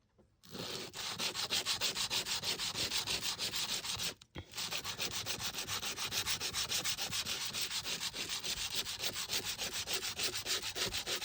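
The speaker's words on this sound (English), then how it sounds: "All right, I have sanding block. I'm just going to use the fine part, I think." A fine sanding block rubs back and forth across a stencil in quick, even strokes, a close, steady scratchy rasp that pauses once briefly before resuming.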